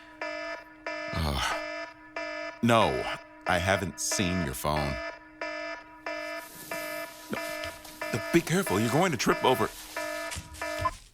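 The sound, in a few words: alarm ringing in an office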